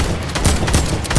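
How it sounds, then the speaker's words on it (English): A brief, loud burst of rapid gunfire in the video game Fortnite, dense repeated shots packed into about a second. "We're already getting shot at!"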